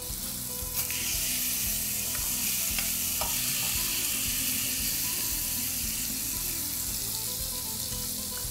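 Liver sizzling loudly and steadily in a very hot pan with a small spoonful of oil, a dense continuous frying hiss with occasional sharp pops and crackles throughout, close up and with no talking.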